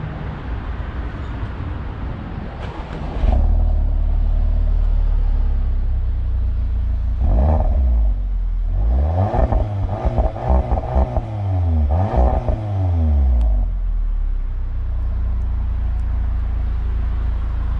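New Audi TTS sports car driving, a steady loud engine drone with rising and falling revs through gear changes, alone without talk.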